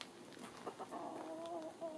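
A rooster among foraging hens in a backyard poultry yard gives soft, repeated clucks over about two seconds, close and moderately loud against light ambient noise.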